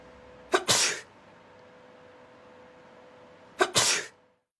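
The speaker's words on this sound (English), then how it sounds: "First, sneezing." Two sharp human sneezes, each a quick inhaled catch followed by a loud burst, spaced about three seconds apart and heard alone in a quiet room.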